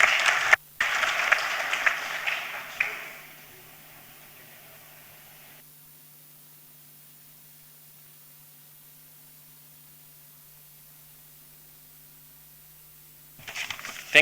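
Audience applause at the closing of a youth forum, a hissy burst of clapping for a few seconds that fades into near silence, with clapping returning faintly at the very end.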